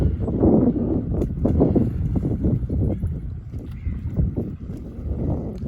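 Speedboat running on the water at Mangla Dam near Mirpur, a rough, surging motor roar with heavy wind buffeting the microphone, loud and fairly close, with no talk.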